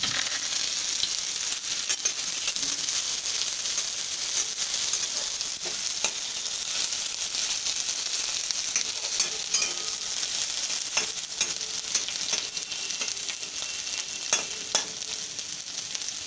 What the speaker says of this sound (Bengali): এবারে পেঁয়াজ কুচিগুলোকে দিয়ে দিচ্ছি এটাকে ভালোভাবে এবার একটু ফ্রাই করে নেবো